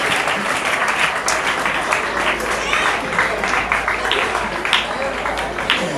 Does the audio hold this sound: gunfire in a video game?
no